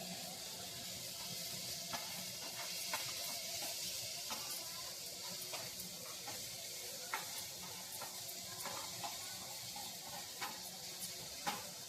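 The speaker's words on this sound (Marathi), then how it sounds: "मीठ टाकणार आहे चांगलं मिक्स करायचं आहे" Malvani sukka chicken being stirred and mixed with salt in a pan: steady soft sizzling with scattered spoon scrapes and clicks against the pan, quiet and close, with no voices.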